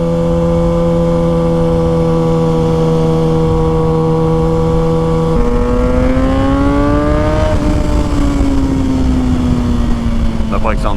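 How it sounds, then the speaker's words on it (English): A Kawasaki ZX6R motorcycle rides along with a loud, steady engine drone that shifts in pitch as it revs up and eases off, under constant wind noise. "That bike sounds good."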